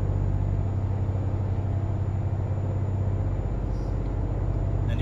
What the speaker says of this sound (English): now that speed limit went up to 90, we're going to go ahead and accelerate a little bit